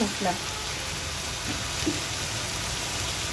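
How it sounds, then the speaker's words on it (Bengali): Ginger, garlic, onion, green chili and tomato sauté together in a pan, giving a steady faint sizzle with brief stirring scrapes near the start and around the middle. "আমি এখানে আদা, রসুন, পেঁয়াজ, কাঁচামরিচ, টমেটো সবগুলো দিয়ে একসাথে কষিয়ে নিচ্ছি।"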